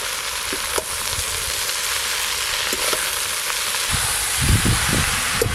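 Water spinach with salt and turmeric frying in a pan, a steady close sizzle with stirring scrapes and knocks growing busier toward the end.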